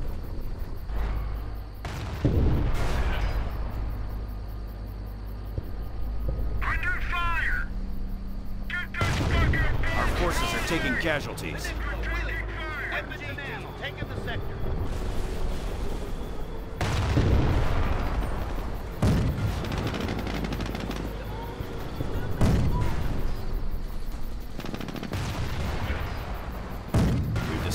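German 88 mm guns shelling in Company of Heroes during the Mortain counterattack: heavy booming artillery blasts and gunfire recur at irregular intervals over a long stretch, with a voice shouting in between.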